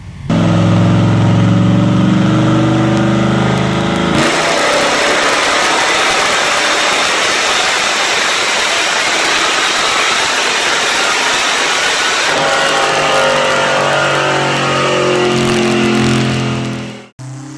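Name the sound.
Chevrolet V8 engine idling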